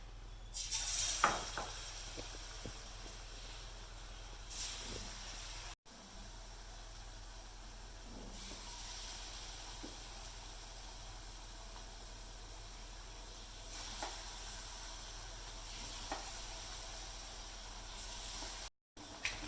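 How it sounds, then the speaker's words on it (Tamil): Batter-coated cauliflower pieces for Gobi Manchurian deep-fry in hot oil, a faint, steady bubbling hiss that carries on evenly, broken by an occasional scrape or knock of a ladle against the pan. "எண்ணெய் நல்லா காஞ்சிட்டு இன்னும் இதை பொரிச்சு எடுக்கணும்"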